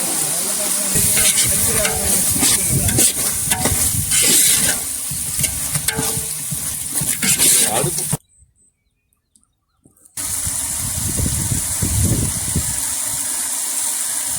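Ground masala of cinnamon and cloves sizzles loudly in a pot with a continuous scraping stir while cooking tender-coconut chicken biryani. It breaks off into near silence for about two seconds, then the steady frying and stirring resumes.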